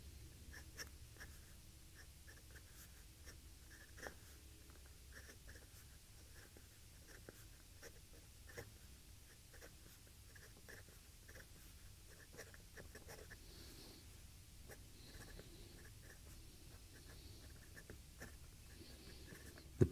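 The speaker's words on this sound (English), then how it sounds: "The pen writes really nice and smoothly." A PenBBS 495 fountain pen writes smoothly across paper, giving a faint, soft scratching with brief strokes and taps repeating steadily and close by, and no voices.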